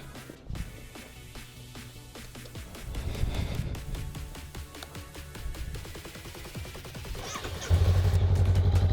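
A motorcycle on an Arizona evening: clatter and rattling at first, then the engine fires up near the end and settles into a loud, steady, close idle.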